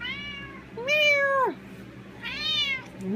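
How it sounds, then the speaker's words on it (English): A cat meows two or three times up close, each call drawn out and rising then falling, with quiet gaps between and no talking. "I have a needy kitty."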